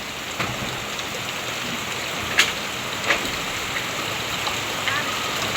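Heavy rain pours in a dense, steady hiss, with a few louder splashes and drips standing out now and then.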